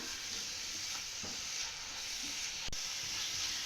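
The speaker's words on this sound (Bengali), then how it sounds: "তো আবারও একটু ভালোভাবে নেড়ে চেড়ে মিক্স করে নেব" A semolina and milk-powder filling is stirred in a hot pan, giving a soft, continuous sizzle and scraping hiss, faint and steady throughout.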